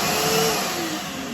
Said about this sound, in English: we'll plug the Hoover in again and let's see if the Hoover works